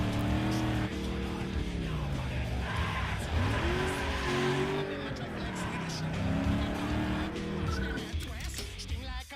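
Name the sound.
SUV driving in Need for Speed Underground 2 video game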